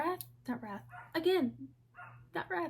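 A dog barks indoors, likely at a door, in a quick run of sharp, close barks with short gaps between them, over a steady low electrical hum.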